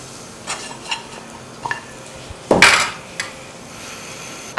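French fries for fajita-flavour fries drop into hot oil with one sudden sharp sizzle burst, then fade to a faint, quiet bubbling amid light kitchen clinks.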